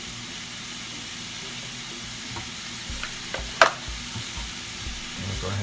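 Seasoned curry ingredients with black pepper and allspice stirred in a hot pan, a steady low sizzle with a few soft scraping stirs and one sharper utensil clack partway through, close and moderately loud.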